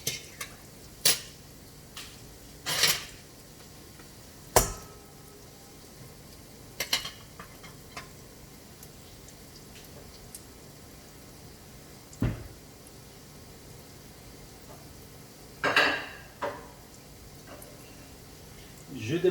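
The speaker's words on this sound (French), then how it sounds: "Je débarrasse un petit peu mon plan de travail" Dishes and utensils clatter as a kitchen worktop is cleared, with scattered knocks and clinks at irregular intervals over a faint background sizzle of frying.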